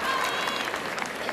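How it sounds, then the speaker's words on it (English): Arena crowd applauding steadily at a European figure skating championship as Spanish skater Javier Fernandez takes the ice, a dense, sustained wash of clapping with no break. "Ample recognition from the crowd for one of the most notable names in men's figure skating for the past several years."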